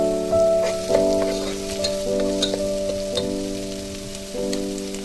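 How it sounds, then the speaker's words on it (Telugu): Finely chopped onion and green chilies frying in a couple of tablespoons of oil, giving a steady, close sizzle with occasional stirring scrapes, over a sustained tonal background hum. "అందులో 2 table spoons of oil add చేసి ఒక ఆనియన్ ఫైన్లీ చాప్"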